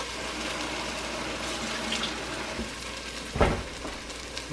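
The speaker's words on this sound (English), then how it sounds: "I'm going to just clean the can out" Water splashes and swishes inside an emptied tomato can as it is rinsed out, with a steady running wash and one sharper clank near the end; no talking.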